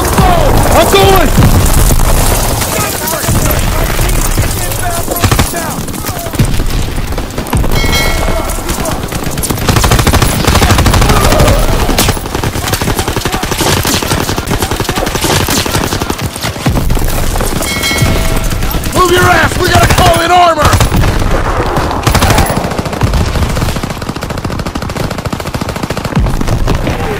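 Dense, relentless machine-gun and rifle fire from Call of Duty WWII during a German attack, loud and continuous with booming impacts, while soldiers shout over the battle.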